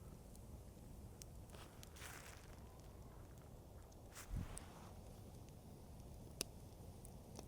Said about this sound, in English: I just heard footsteps behind me